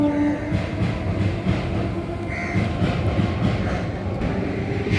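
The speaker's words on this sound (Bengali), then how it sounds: "লোকাল ট্রেন যাচ্ছে দেখো এই ব্রিজের উপর থেকে।" A local train crosses the Surjapur bridge with a continuous rumbling clatter of wheels on rails, steady and fairly loud, and a crow may caw faintly in the background.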